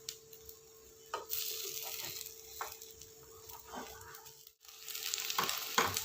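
A mushroom omelette sizzles in oil in a pan, a steady hiss of frying broken by a few light scrapes and clinks of a spatula turning it, close by.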